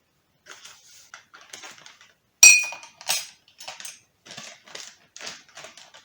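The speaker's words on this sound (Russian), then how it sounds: "Хорошенько размешиваю." A spoon clinks and scrapes against a glass or bowl while stirring dry yeast and sugar into warm water, a series of light, irregular taps with one sharper clink, close and alone.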